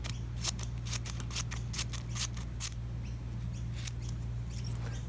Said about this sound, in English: take your masking tape, fold it over, and then all we're going to do is just cut